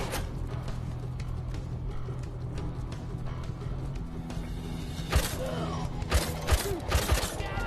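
Revolver gunfire in Peaky Blinders VR rings out as several sharp, close shots in quick succession near the end, following a stretch of low game ambience and mechanical clicks.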